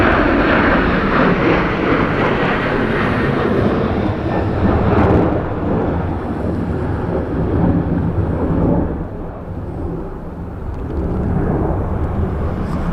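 A passenger airplane roars past during a gusty crosswind approach to runway 16 at Dublin Airport, a loud, broad engine rumble that holds steady and then eases slightly near the end.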